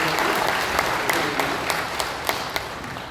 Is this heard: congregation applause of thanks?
yes